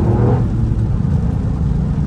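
Toyota Yaris GR engine droning steadily as the car drives on snow, a low continuous hum with a brief higher note at the start, close and fairly loud with no voices.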